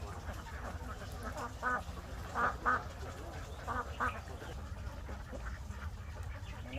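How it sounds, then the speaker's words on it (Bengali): Hundreds of ducks at a farm beside a flooded wetland quack repeatedly in short bursts, several distinct calls rising over a steady background of flock chatter and outdoor noise. "শত শত হাঁস এখানে পানি জমে আছে এর মধ্যে তারা খাওয়াচ্ছে"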